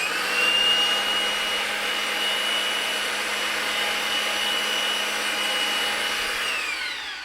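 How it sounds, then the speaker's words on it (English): Power pipe threading machine cutting threads onto a gas line pipe, a loud continuous motor whine and grinding hum held steady for several seconds before easing off at the end, no talking. "You're going to put slight pressure on the pressure bar and push on the trigger."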